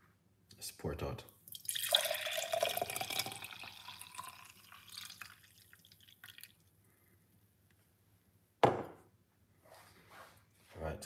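Water infused with pomegranate seeds is poured out, giving a splashing, trickling stream that rises in pitch as the vessel fills, followed by quieter drips and clinks, with a person talking intermittently.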